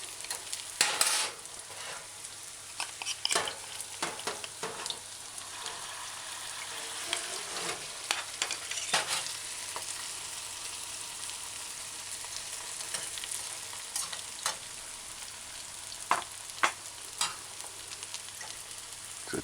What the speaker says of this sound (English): Just allow it to fry for a few seconds